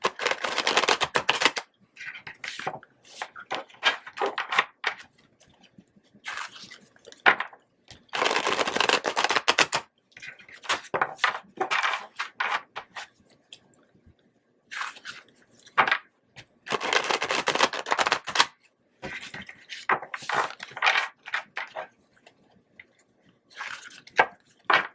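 Tarot cards are shuffled in bursts of crisp riffling and slapping, several rapid spells of a second or two separated by short quiet gaps, close and clear with no talk.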